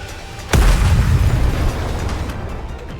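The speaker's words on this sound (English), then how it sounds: "The missiles have no homing ability. It's just firing wildly!" Missiles firing wildly and exploding in NIKKE: one sharp, loud blast followed by a deep rumbling roar that slowly fades under lingering debris noise.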